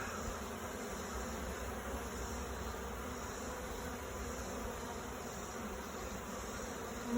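Dense, steady buzzing from a honeybee colony in an old barn hive fills the scene continuously at close range, with no voices.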